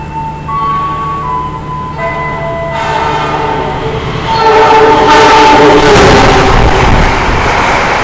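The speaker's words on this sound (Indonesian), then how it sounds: "Ini bener-bener itu tadi full speed menyusul kereta api Majapahit." An express train rumbles past at full speed with a sustained horn blaring over the roar, the noise swelling louder and broader as it rushes closer.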